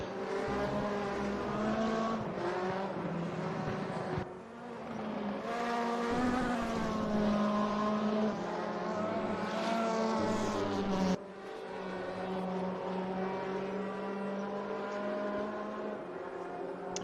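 WTCC touring cars racing around Monza in the RaceRoom sim give a continuous, loud engine drone with strong harmonics that rise and fall as cars pass and shift, with brief dips in the roar.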